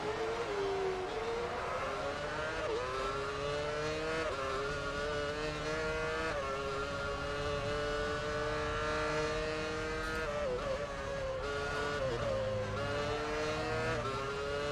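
Formula One race car engine in the F1 Championship Edition racing game on PS3, a continuous high-pitched whining roar that shifts pitch through gear changes and braking, steady and prominent throughout with no talk.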